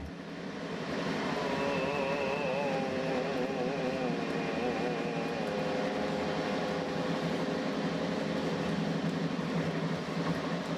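A train travelling, giving a steady, loud rumble with shifting whining tones that rise and fall throughout.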